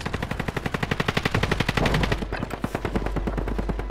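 Rapid automatic gunfire in Call of Duty on Rebirth Island, a steady fast stream of close, loud shots with a brief thicker burst midway, carrying on without talk.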